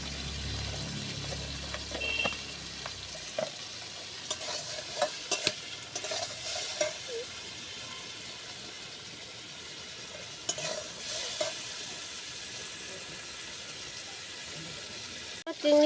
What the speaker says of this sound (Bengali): চিংড়ি মাছটা ভাজা হয়ে গেছে, আমি উঠিয়ে নেব।